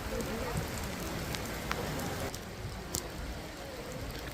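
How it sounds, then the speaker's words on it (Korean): Steady rain comes down outdoors in a city, a dense close patter of drops on surfaces that continues unbroken, with a few sharper drip ticks standing out. "비 옵니다."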